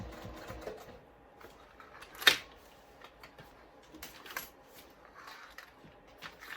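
A sewing machine top stitches a bag, its quiet, intermittent needle clatter coming in short runs with a sharper click or two against a hushed room.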